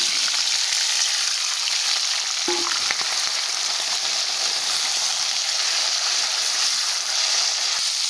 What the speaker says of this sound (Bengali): গরম তেলে জিরে ফোড়নটা দিয়ে দিয়েছি